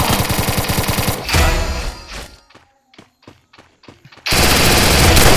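Rapid automatic gunfire from a battle royale mobile game, with Groza and MP40 weapons, rattles loud and close in bursts, breaks into a few sparse single shots and thuds, then resumes in a dense sustained volley.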